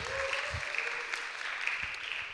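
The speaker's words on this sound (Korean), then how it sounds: "수고해준 안민 형제한테 한 번 더 큰 박수 부탁드립니다" Applause from a church youth worship congregation for Brother Anmin, a steady, dense clapping that holds at an even level for a couple of seconds.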